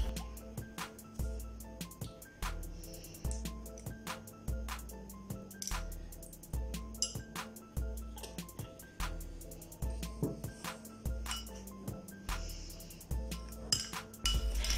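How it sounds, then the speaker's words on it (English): Spoon stirring ingredients for a homemade hair growth remedy in a bowl, a regular series of metallic clinks and scrapes repeating about every second, close and clear, with no talking. "Now mix all the ingredients very well."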